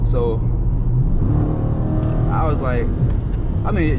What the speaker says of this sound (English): y'all hear the active exhaust right there though